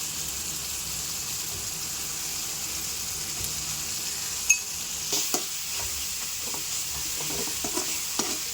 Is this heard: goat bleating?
no